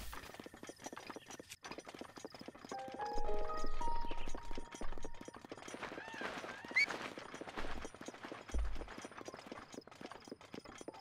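Horse hooves gallop in Zelda: Breath of the Wild as a quick, rhythmic clip-clop with game music and effects layered on top. A player talks over the game audio.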